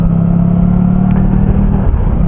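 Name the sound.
motorcycle engine while riding on wet roads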